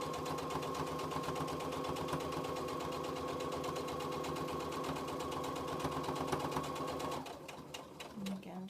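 A sewing machine topstitching around the edge of a flannel washcloth runs in a steady, fast, close whirring hum for several seconds, then stops abruptly as fabric is shifted and handled.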